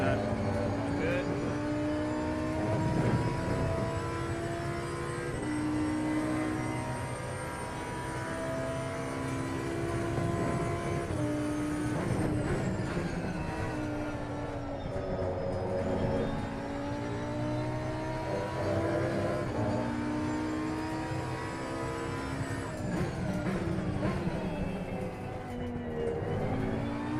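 Race car engine in the video game Assetto Corsa Competizione, a continuous loud drone with rising and falling pitch through gear shifts, running throughout with a voice talking over it.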